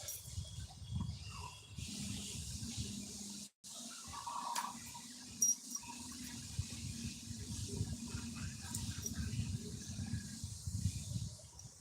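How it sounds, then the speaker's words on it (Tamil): A drinking-water tap left open runs with a steady hiss of flowing water, continuous and fairly close, with a brief dropout and some faint background clatter. "குடி தண்ணி திறந்து விட்டு வச்சிருக்கேன் பாரு"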